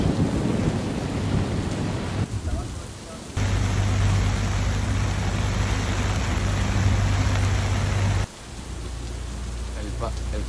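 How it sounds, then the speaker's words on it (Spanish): A rain shower at sea, heard from a sailing boat: steady rain hissing down, loud and close, with a deep low rumble beneath; the intensity shifts abruptly partway through. "Nos viene el primer chubasco de la travesía."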